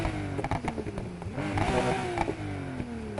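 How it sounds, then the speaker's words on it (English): A Porsche 911 GT3 RS in the video game Need for Speed Heat revs up and down through several rising and falling pitches, with a throaty exhaust tone and a few clattering knocks. "Exhaust sound, let's see what we got."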